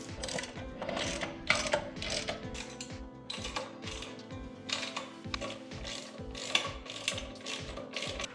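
Ratchet wrench bolting down a Tillotson 225 engine on a Mega Moto 212 minibike, a close series of quick clicking bursts in an uneven rhythm with short pauses between strokes, no talking.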